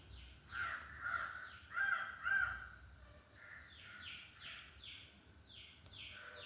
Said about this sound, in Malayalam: അടുത്തത് കാക്ക, എല്ലാവരും കൂടി ആകെ ബഹളം വെക്കുന്നുണ്ട്